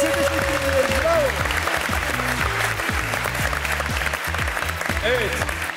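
Studio audience at a Turkish television quiz show breaking into steady, dense applause that holds throughout, with a host talking over the clapping.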